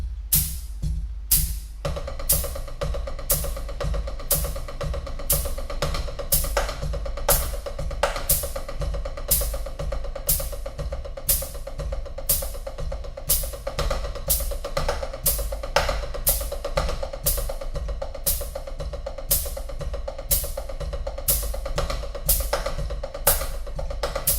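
A hand drum pattern plays fast, steady strokes with regular accented hits, continuing evenly and without pause.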